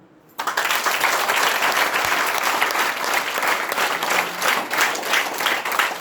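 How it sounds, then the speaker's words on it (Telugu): A school audience of students and staff claps steadily for several seconds, a dense and sustained round of applause from a large crowd. "దానికి ఒకసారి క్లాప్స్ ఇవ్వండి"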